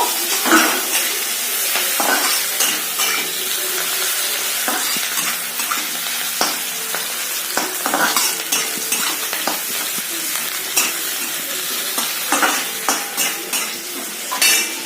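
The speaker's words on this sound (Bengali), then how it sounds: "পেঁয়াজটা একটু ভাজা ভাজা হোক, তারপর আমি ঝিঙেটা দিয়ে দিব।" Onions sizzle in hot oil while a spatula scrapes and stirs them in quick, irregular strokes before ridge gourd is added. The pan is close and fairly loud, with no talking.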